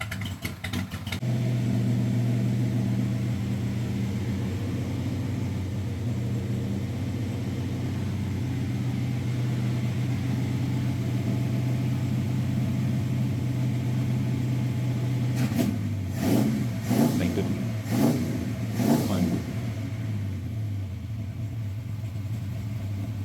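A 1955 Chevy Tri-Five V8 with a sizable cam and an electric choke holds a loud, steady, lumpy idle. Near the end it gives several quick, sharp blips of revving, then settles back to idle.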